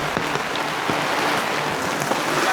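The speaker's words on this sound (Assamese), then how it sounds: "আৰু ডাঙৰ ডাঙৰ শিল হৈছে" Large hailstones falling with rain during a storm at a home construction site, a dense steady patter with occasional sharper impacts standing out, no voices.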